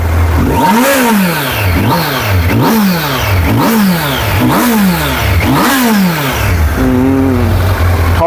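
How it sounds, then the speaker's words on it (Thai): A 2022 Kawasaki Z900SE inline-four engine on its stock exhaust revs repeatedly, about six sharp rising blips in quick rhythm, loud and close, then settles back toward idle. "เดี๋ยวมาฟังเสียงเร่งเครื่องครับผม"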